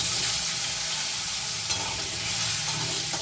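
Diced potatoes that were soaked in water hiss and crackle in hot oil along with popped black cumin (kalo jeera) seeds. A steady, dense sizzle with bursts of stirring, heard close and without talk.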